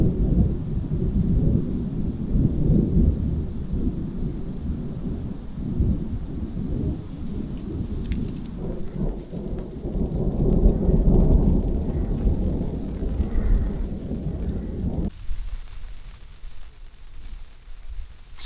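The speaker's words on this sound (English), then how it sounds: "It's raining pretty good now." Heavy rain with rolling thunder at a campsite in the grasslands of western New Mexico, a dense low roar of downpour and rumbling that continues for most of the stretch before the thunder drops away abruptly, leaving lighter rain.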